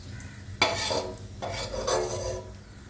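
Fried onions being scooped out of hot oil for a chicken biryani, with two scraping strokes of a ladle against the pan over a faint sizzle, close and clear, no talk.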